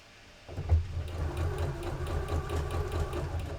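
A sewing machine starts up after a brief quiet moment while sewing a fabric hair scrunchie, then runs steadily with a low rhythmic motor chug and needle ticking up close.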